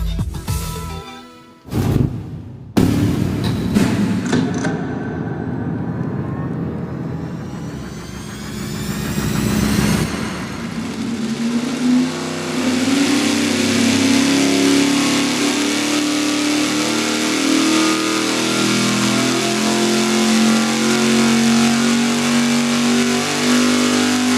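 A car engine on a dynamometer, running a budget fuel pump under test, blips and crackles a few times, then climbs in a long, loud, sustained rev that builds steadily in pitch and holds near full power.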